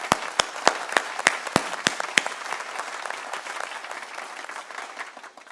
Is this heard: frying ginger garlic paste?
no